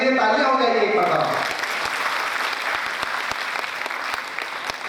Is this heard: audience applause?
yes